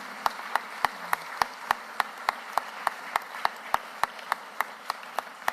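Applause at a Philadelphia press conference announcing a new city managing director. Sharp, evenly spaced claps ring out at a slow, regular pace, about three per second, in a quiet room with no overlapping talk.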